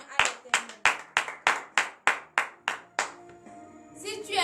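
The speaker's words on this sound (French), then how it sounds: "donnez de vives acclamations à l'Éternel" A congregation at morning prayer claps in a strong, even rhythm, about ten sharp unison claps in a row, before the clapping breaks off into scattered voices.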